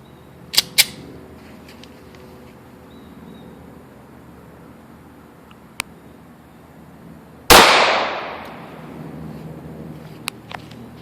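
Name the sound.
gunshot from a .40 Smith & Wesson pistol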